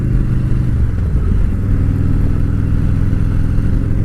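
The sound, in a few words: 2017 Harley Road King motorcycle, Milwaukee-Eight 107 engine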